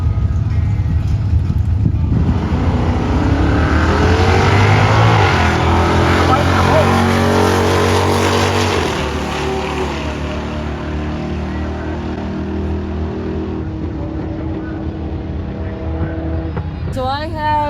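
Drag racing cars, including an AMX, launching and accelerating down the strip with a loud, rising engine roar that swells and then settles into a sustained drone as they pull away, with an announcer talking over it.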